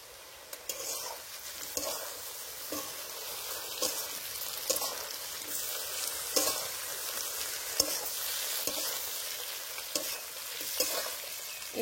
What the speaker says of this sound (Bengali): ইঁচড়গুলো কষতে কষতে একদম কমে গেছে, আর সেদ্ধও কিন্তু হয়ে গেছে।